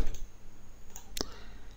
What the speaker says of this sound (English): right click and view designer.